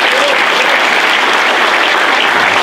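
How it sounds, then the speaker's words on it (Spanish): A church congregation applauds during a Spanish-language worship service, dense, loud and continuous clapping filling the room from start to finish. "Denle un aplauso a Jesús."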